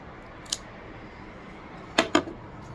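A Davidoff cigar is V-cut with a cutter: a faint snip, then a pause and two sharp, close clicks in quick succession, over a quiet room.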